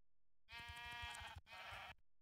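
Two bleats from Minecraft sheep on a multiplayer server, close and loud, the first long and wavering, the second shorter after a brief gap.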